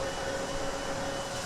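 A TFDi Design MD11 airliner's number 1 engine spools up in Microsoft Flight Simulator, giving a steady, broadband jet whine and rumble with a sustained tone, heard continuously and fairly faint with no talking.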